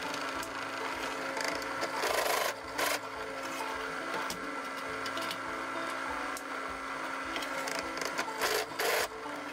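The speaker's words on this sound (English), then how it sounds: "y'all get to see me finish out the holes with a step bit and chamfer them" A step bit drills and chamfers holes in a tanto knife blade, a steady grinding, rasping whine of metal cutting that holds loud and continuous with brief dips.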